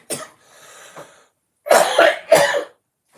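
A person coughs close by: one short cough, a faint throaty rasp, then a pair of loud, harsh dry coughs in quick succession, with no talking.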